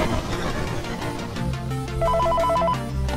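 A telephone rings in the video game Five Nights at Freddy's 3. Busy game ambience comes first, then a burst of rapid, trilling ring tones stands out clearly.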